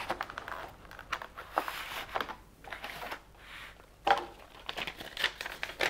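Packaging paper crinkles and rustles while a boxed TRIX SJ Rc6 model locomotive is unpacked, with repeated close handling bursts and brief pauses between them.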